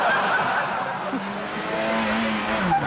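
A car lapping the Top Gear test track, a steady engine drone heard from a distance with a faint rising tone, continuous for a few seconds.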